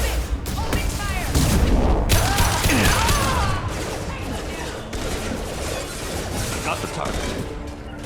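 Mass Effect 2 gunfire during a combat scene, rapid loud volleys of shots and booms up close with sharp energy whines, easing into scattered fire while voices talk over it.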